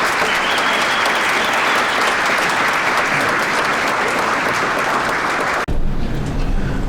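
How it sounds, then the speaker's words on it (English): Sustained applause from an audience at a sports hall of fame induction ceremony, loud and steady, ending abruptly near the close with a brief quieter tail of crowd noise. "Again, let's have a round of applause for our inductees and for Mr. Cannella."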